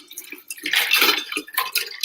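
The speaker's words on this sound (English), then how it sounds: "And we're gonna pour All of that good water." Alkaline water is poured into a glass with ice, giving close clinks of ice against glass and a splashy, bubbling pour in short bursts.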